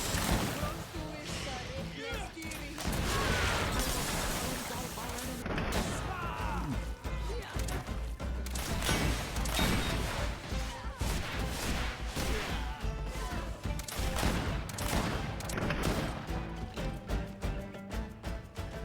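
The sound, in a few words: gunshots in Greedfall video game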